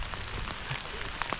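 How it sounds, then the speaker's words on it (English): Rain falls steadily on a hiking trail along the Foothills Trail, a soft, even hiss of drops with a few brighter taps close by, faint and unbroken with no talk. "I thought you'd want to see that it really is raining,"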